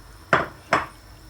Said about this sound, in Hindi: जो मैंने ये चिकन मैरिनेट करके रखी थी इसको हम बटर में शामिल कर देते हैं और साथ ही जो टमाटर काट के रखे थे वो भी डाल देते हैं